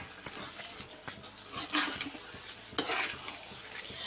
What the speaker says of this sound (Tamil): இப்போ நான் வேக வச்ச உருளைக்கிழங்கையும் ஆட் பண்ணிக்கிறேன். இதையும் கொஞ்சம் வதக்கிட்டு வந்துடலாம்.